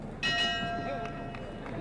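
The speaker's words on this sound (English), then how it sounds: "And there's the bell." A boxing ring bell ends round one of the 1971 Muhammad Ali versus Jimmy Ellis fight, struck once near the start and ringing out with a slow decay over arena crowd noise and voices.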